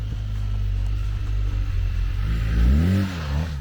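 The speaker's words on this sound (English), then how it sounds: "blipping the throttle in deep sand is another way to effectively steer the motorcycle" BMW R1250GSA adventure motorcycle in deep sand, its engine droning steadily and then giving a sharp throttle blip that swells and falls near the end, heard alone and fairly close.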